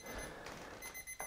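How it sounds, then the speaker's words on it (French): A timer alarm rings at the end of a stretching session, a repeated electronic beeping tone sounding for just over a second in a quiet room. "Ça c'est la sonnerie que tu veux entendre."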